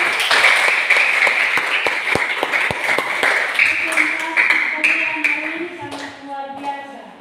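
Classroom of students clapping for a student group, a dense burst of applause that thins out toward the end, with voices mixed in underneath.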